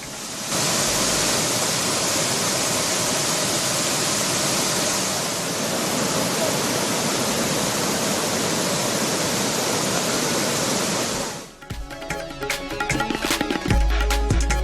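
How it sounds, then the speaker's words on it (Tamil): Thiruparappu waterfall in flood after days of continuous rain, a loud, steady roar of rushing water that fills the scene, then breaks off abruptly into a different, choppier noise near the end. "தொடர் மழையால் திருப்பரப்பு அருவியில் வெள்ளப்பெருக்கு"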